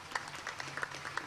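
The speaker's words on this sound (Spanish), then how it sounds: "Un aplauso para ellos." A church congregation applauds during a night Eucharist service, a faint, steady patter of many hands clapping heard from a distance.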